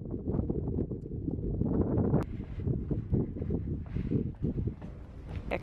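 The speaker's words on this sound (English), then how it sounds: "I hope this sounds okay because it's pretty windy." Gusty wind buffets the microphone in uneven low rumbles and thumps, fairly quiet and continuous with brief surges.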